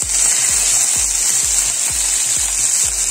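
Ginger-garlic paste hits hot oil already crackling with cumin and asafoetida while a lauki kofta curry is cooked. A loud, close, steady sizzle runs throughout, with soft low knocks at a regular pace.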